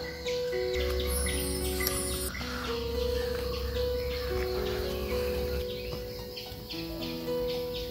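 Birds call near a lake view resort in Munnar, with several sustained tonal whistles and chirps layered over a constant insect drone, heard at moderate distance without speech.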